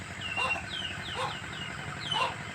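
Chickens cluck and chirp softly in short, spaced calls, a few seconds apart, with faint outdoor background noise.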